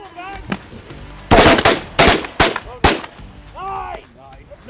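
Shotgun blasts during a spring snow goose hunt in Canada, four loud booming shots in quick succession, with geese honking and calling around them and hunters shouting.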